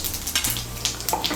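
Whole cardamom, cloves, cinnamon and cumin seeds sizzle in hot oil in a pan, a steady close crackling hiss with a few brighter spits and pops, no voices.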